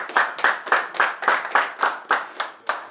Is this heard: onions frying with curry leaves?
no